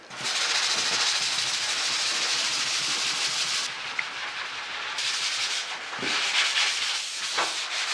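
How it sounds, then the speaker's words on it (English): A 3M fine-grit sanding pad rubs over a drywall crack patch in a continuous close, hissy scrubbing, with short pauses between strokes and no speech. "So now it's time to sand, and I have my sanding pad. It's made by 3M, and it's fine grit."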